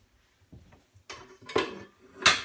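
A skillet is grabbed from among pots and pans in a home kitchen: a few quiet knocks, then three sharp metallic clanks and scrapes, growing louder, the last one the loudest.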